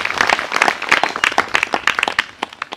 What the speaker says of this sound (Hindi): सब ताली बजाएंगे यीशु मसीह के लिए